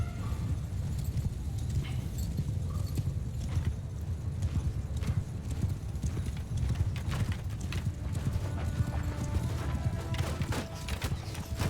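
In the Mount & Blade II Bannerlord video game, hooves gallop in a fast, continuous clatter close by, joined by a brief whinny and faint battle noise behind.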